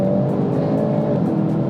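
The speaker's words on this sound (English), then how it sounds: "I'm still driving the car anyway." A Hyundai i30 N Facelift drives along, its engine producing a steady, close, loud hum and drone from the cabin throughout the short stretch, with no talking.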